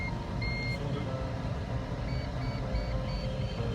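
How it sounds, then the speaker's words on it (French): A FLARM collision warning alarm beeping inside a glider cockpit, with thin repeated tones over a loud, steady rush of airflow and cabin noise. "Quand je vois ce moment-là, le flarme est hystérique."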